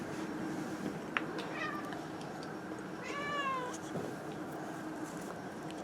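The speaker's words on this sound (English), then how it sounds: "The word is kitty, and this is what I associate with the word kitty." A cat meows several times close by, giving short rising calls and then a longer drawn-out wavering meow over a quiet indoor background, with no voices.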